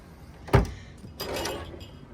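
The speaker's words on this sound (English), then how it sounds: "I do want to show you the refrigerator is connected to the door." A refrigerator door built into the cabinetry of a river cruise ship cabin opens with one sharp, close thunk, then a softer sliding rustle follows a moment later.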